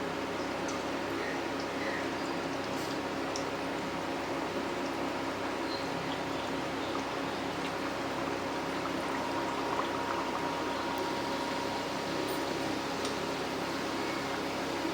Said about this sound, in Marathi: आता आपण एक एक करून करंजी याच्यामध्ये सोडूया